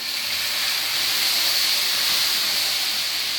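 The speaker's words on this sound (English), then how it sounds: "I've got a kettle with some hot water, just a splodge." Hot water splashing from a kettle into a pan of potato curry with fresh crushed garlic, a steady close hissing pour with steam that runs the whole time and has no voices over it.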